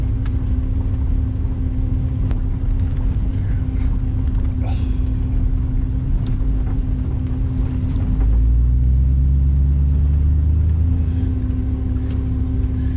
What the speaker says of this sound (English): You like them spinning tires?